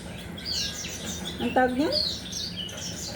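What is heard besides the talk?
pet birds chirping and singing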